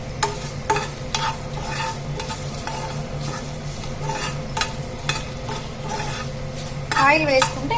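Flax seeds roasting in a little oil in a pan are stirred steadily, with a continuous close sizzle and regular scraping strokes of the spoon against the pan, and a few sharper clinks near the end.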